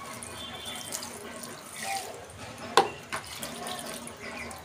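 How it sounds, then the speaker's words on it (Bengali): Water runs quietly from a tap while someone waters garden plants, a soft, steady trickle with a brief clink partway through. "এই দেখো, গাছে জল দিতে চলে এসেছি।"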